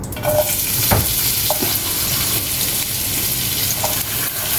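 Onion, ginger and garlic fry together in hot oil, a steady close sizzle punctuated by a few scraping stirs and clinks of a utensil against the pan, with no talking.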